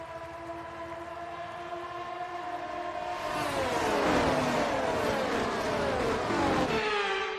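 F1 cars on the formation lap at Silverstone in F1 23: a steady engine tone that swells louder partway through, its pitch sliding and shifting as the cars pull away.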